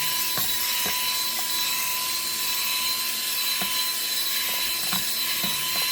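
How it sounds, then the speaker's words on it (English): Wet sanding pad worked over a cured epoxy resin tray with pressed flowers, a steady close abrasive hiss running continuously with faint scattered ticks, no talking. "you just want to sand all over water going in different directions until your sanding marks from your last pad"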